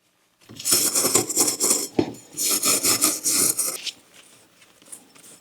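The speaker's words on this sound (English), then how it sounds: "Let's just clean off all of this old gunk." Old gunk is scrubbed off the parts of a budget Specialized Sirrus bike build in quick, close rubbing strokes, two busy bursts separated by a brief pause, then trailing off into quiet.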